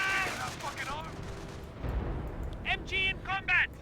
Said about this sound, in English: Looks like his base is getting barraged.